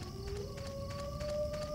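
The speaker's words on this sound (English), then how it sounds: "And I hear more dogs." A long, rising howl from dogs carries through a horror video game, a single sustained wavering tone over a low, rumbling ambient drone, with faint repeating pulses behind it.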